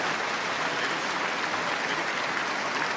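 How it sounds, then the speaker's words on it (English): Dense, even applause from an arena audience at a table tennis final, continuous and full without breaks. "And the encouraging applause here."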